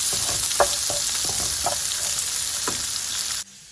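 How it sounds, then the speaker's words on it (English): Onions sizzle steadily as they fry in a pan for a shakshuka cheese bake, a continuous loud crackle broken by a few sharper pops and stirring clicks, then cutting off abruptly near the end. "Lovely sizzle, and then we add the onions."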